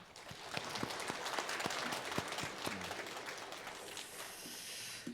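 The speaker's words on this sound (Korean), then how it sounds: "영광의 박수" A church congregation applauds together in a large hall, a dense, even patter of clapping that swells, holds steady and then thins out.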